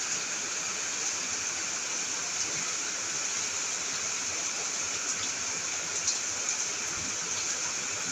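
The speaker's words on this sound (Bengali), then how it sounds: "দেখুন কত বৃষ্টি।" Steady heavy rain falls at a cattle farm in Bangladesh, an even, continuous hiss and patter close by, with no voices.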